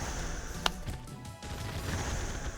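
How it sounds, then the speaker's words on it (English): Mana moons breaking apart in a video game, heard as a single sharp shattering crack rising out of steady game background noise, then fading back into the ambient bed. "You can hear that shattering sound effect."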